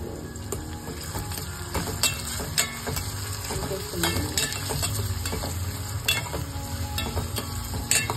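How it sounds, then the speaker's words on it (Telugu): Chopped onions fry in a pan for okra pulusu, a steady broadband sizzle running throughout with repeated close scraping and clinking as a spatula stirs them against the pan, loud and continuous with no talking. "తర్వాత మనం ఉల్లిపాయలు అయితే వేసేస్తాము. ఉల్లిపాయలు అయితే వేగుతున్నాము."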